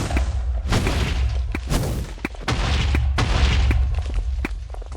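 Rapid bursts of gunfire from an enemy in modded Minecraft, a dense run of loud booming shots and thuds repeating across the moment with no pauses and no talking.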